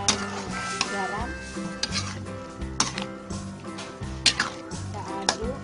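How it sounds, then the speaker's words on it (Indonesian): Squid stir-fry with sugar, flavour enhancer and salt being stirred in a pan, repeated scraping strokes of a spatula over a steady sizzle, close and clear, with background music playing throughout. "Kita aduk."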